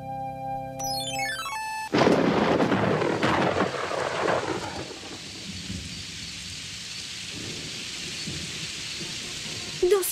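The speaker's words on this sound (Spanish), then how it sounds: "Dos semanas seguidas de lluvia." A musical chime gives way to a heavy thunderclap, then steady rain pours down with low rumbling continuing in the background, from a Super Mario Bros. cartoon.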